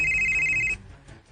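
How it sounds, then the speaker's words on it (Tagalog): A telephone ringing with an incoming call, a loud electronic ringtone trilling steadily for under a second before cutting off, leaving quiet room noise. "Nanawag na sab si James"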